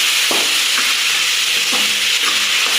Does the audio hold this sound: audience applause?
no